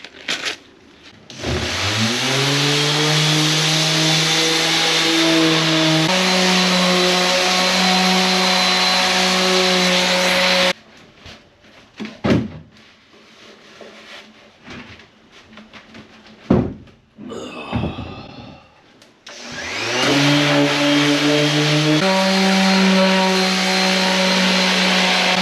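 A power sander fitted with a Gator 40-grit sanding pad whines loudly at a steady pitch, stops for a stretch of handling noises, then starts up again and runs strongly.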